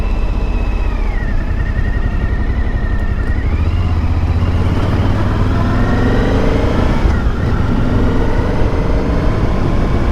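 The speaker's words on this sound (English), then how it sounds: "a lovely exhaust note from the stock exhaust" Suzuki V-Strom 1050 DE adventure bike with V-twin engine and stock exhaust, loud steady riding drone with rising and falling engine pitch as it accelerates and shifts, mixed with wind noise.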